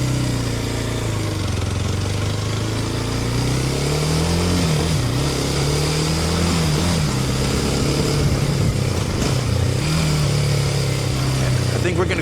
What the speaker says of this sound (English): Sometimes I forget how much power this motorcycle gives you.